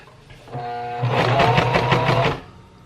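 Sewing machine stitching fabric, starting with a short low whir and then running steadily for more than a second in a loud, close, buzzing mechanical rhythm before it stops.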